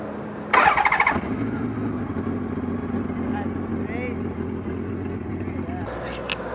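A 2004 Honda Valkyrie Rune motorcycle cranks with a brief loud starter whir, then catches and settles into a steady, close, low idle rumble.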